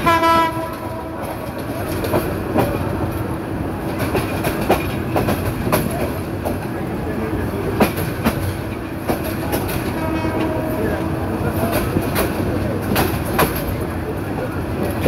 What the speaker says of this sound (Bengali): তো মহানগর এক্সপ্রেস ট্রেনটি বিমানবন্দর রেল স্টেশন ছেড়ে যাচ্ছে 10টা 2 মিনিটে